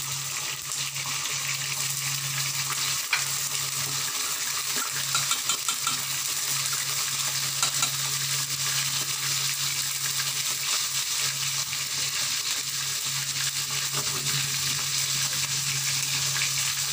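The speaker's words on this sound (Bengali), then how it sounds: "আগে পনির কটা ভেজে নেব" Pieces of paneer frying in hot oil give off a steady, dense sizzle with faint crackles throughout, close up and with no talking.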